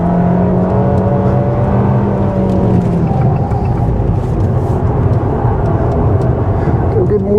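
A 2023 Abarth 695 Competizione with 180 hp and a limited-slip differential drones loudly from close inside the cabin under light throttle, a steady engine hum with a brief falling tone early on.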